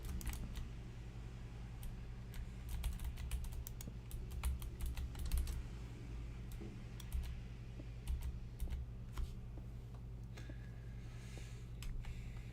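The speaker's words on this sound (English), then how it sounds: "I don't know if you're getting like complete ASMR from my mouse and my keyboard" Steady computer keyboard typing with scattered mouse clicks throughout, close and fairly quiet, over a constant low hum during a modded Minecraft survival session.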